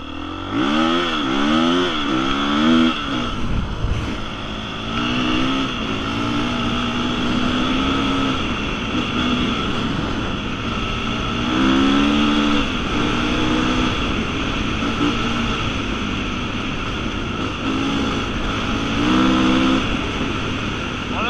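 A KTM 350 EXC-F enduro motorcycle engine revs and drops repeatedly as the bike rides over rough ground, loud and close throughout, with rising and falling pitch.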